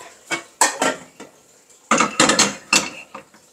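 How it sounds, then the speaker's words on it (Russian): A metal frying pan is taken out and handled in a kitchen, producing several sharp clanks and clatters of cookware, with a quiet pause between two bursts of knocking and scraping. "Вот эту сковородочку взять."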